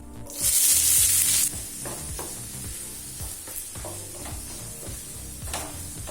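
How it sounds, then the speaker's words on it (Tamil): Two large, finely chopped onions hit hot oil in a kadai with cinnamon, cloves, cardamom, bay leaf and cumin, giving a loud burst of sizzling at first, then a steady fry with repeated scraping stirs. "அடுத்து பொடியா நறுக்குன்னு 2 பெரிய வெங்காயம் சேர்த்துக்கலாம்."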